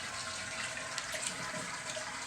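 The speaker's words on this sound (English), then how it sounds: "Courtesy flush." A toilet flushing in a bathroom: a quiet, steady rush of running water with faint gurgles and splashes, continuous and somewhat distant, with no talking.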